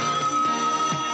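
A voice imitates a ringing telephone on a radio call-in show, a steady, loud, warbling ring-like tone held over about a second with slight pulsing.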